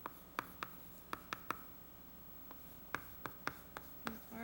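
Chalk or marker strokes on a board during a geometric flows math lecture, a series of sharp, distinct taps and scratches in irregular bursts with short pauses, close and clear with no talk.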